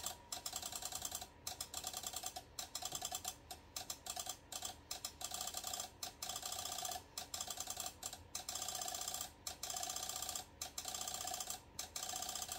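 A sublimation heat press makes a steady mechanical clicking, fast ratchet-like ticks in bursts with short gaps, fairly faint and with no voices.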